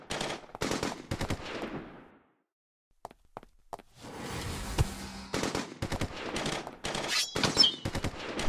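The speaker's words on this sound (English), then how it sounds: "How many of these vibe blasts is he shooting off?" Rapid bursts of energy blasts fire in the superhero video game Crisis on Earth One, sharp crackling volleys in quick succession, a silent gap, then a sustained stream of blasts with smaller hits.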